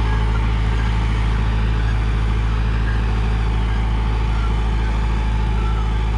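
A Preet 6049 Agritrac tractor's diesel engine runs steadily, a constant loud low drone with no change in pace throughout.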